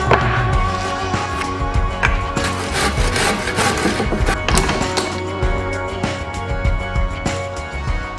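A hand saw cuts back and forth through a wood piece clamped in a vise while building a desk, giving dense, continuous rasping strokes, close and loud, with no talking.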